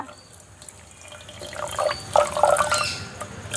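Water is poured from a container over sugar in a cooking pot, a light trickle that grows into splashing and bubbling pours toward the end, close up with no voices.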